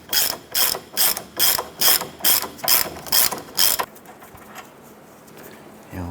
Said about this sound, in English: Go ahead and loosen and remove that nut.